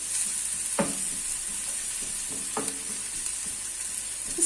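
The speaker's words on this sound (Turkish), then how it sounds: "soğanımız pembeleşinceye kadar kavurmaya devam edelim" Onions fry in a pan for a potato börek, giving a steady, close sizzle punctuated by a few short scraping stirs.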